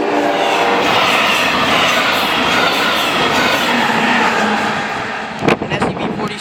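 A Brightline passenger train hauled by a Siemens Charger SCB-40 locomotive rushes past close by at a Melbourne, Florida crossing, with a loud, steady roar and rail clatter that eases off near the end, followed by a few sharp knocks.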